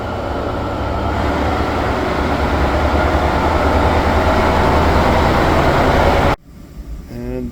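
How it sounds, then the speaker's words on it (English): A passenger train running from Vancouver to Bellingham, Washington rumbles loudly and steadily nearby, a continuous roar of wheels and engine that cuts off abruptly near the end. "this is the train I'm going to be catching on the way to Bellingham"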